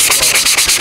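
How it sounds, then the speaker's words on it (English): A 100 grit sanding block rubs back and forth in quick rhythmic strokes, each stroke a loud, close, gritty scrape, with no voices. "this is sanding block, and I would say it's probably about 100 grit"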